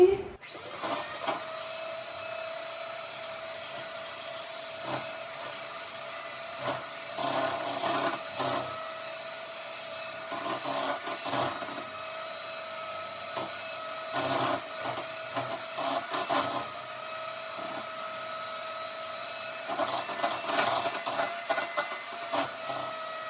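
Electric hand mixer beating cake batter for a birthday cake in a home kitchen, a steady whirring motor hum that runs the whole time with uneven scraping surges as the beaters work through the bowl.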